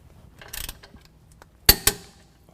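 A wrench with a 21mm socket tightens leveling kit bolts on a 2020 Ram 2500 pickup: soft mechanical clicking, then two sharp, close metallic clacks in quick succession, with no talk.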